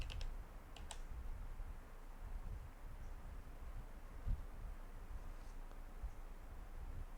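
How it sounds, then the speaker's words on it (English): Someone types a terminal command on a computer keyboard, a quiet, quick run of key clicks heard alone against faint room noise. "So just type npm install"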